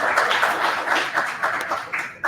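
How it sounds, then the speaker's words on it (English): A small group claps for a hunt team at the close of a session, a short patchy burst of applause with uneven, fairly close hand claps. "wanted everyone to give a huge round of applause for the Hunt team"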